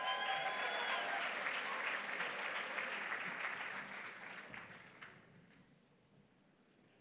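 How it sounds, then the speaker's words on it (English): Audience applause at a live Catholic journalism event, a crowd clapping steadily and then gradually thinning and fading out over several seconds until only scattered claps remain. "Let's give them a round of applause."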